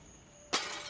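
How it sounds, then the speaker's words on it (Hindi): Glass shattering suddenly in a room at night, a sharp bright crash followed by a sustained tinkling spray of breaking shards, loud and alone. "कांच टूटने की आवाज"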